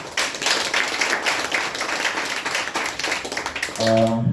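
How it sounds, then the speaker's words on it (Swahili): An audience claps steadily to welcome a guest at a health teaching gathering, a continuous patter of applause that stops as a low tone begins at the end. "Situpigie makofi mazuri"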